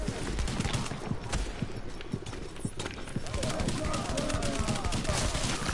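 Gunfire in The Division, a rapid scatter of sharp, close shots and clatter repeating throughout, with people talking over it.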